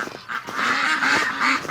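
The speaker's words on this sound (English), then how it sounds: "excited ducks." Excited ducks call out in a rapid, overlapping string of loud, nasal quacks and honks, close by and continuing throughout with brief dips between bursts.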